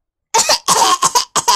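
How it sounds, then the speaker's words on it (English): A voice makes a short string of forced, staged coughs: a few quick, loud bursts close to the listener, separated by brief gaps. "I'll just do a fake cough"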